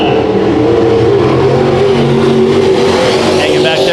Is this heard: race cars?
yes